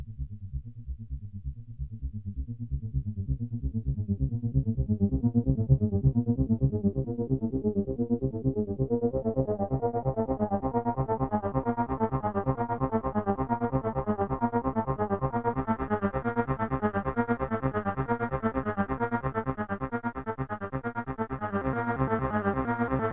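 A Behringer Poly D paraphonic analog synthesizer plays a sustained, buzzy bass line whose tone slowly opens from dark and muffled to bright and gritty, with distortion and chorus-like effects, loud and continuous with no talking.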